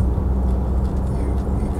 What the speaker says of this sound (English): you can both hear and feel the motor at lovely five-cylinder growl.